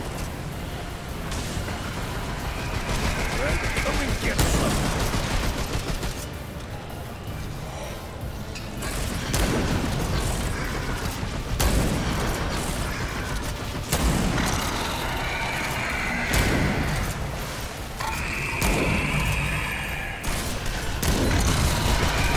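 Gunfire in the video game Remnant 2, with repeated heavy bursts and booms over a dense, noisy battle soundscape that runs loud throughout the long stretch.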